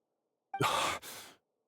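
A single weak, breathy exhale from Nahida in Genshin Impact, a short soft sigh with a slight catch midway, close and faint against silence.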